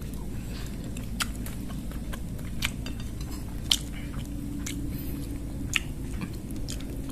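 Someone eats ketupat with Padang-style fern vegetable curry, with soft chewing and occasional crisp bites over a steady low background hum.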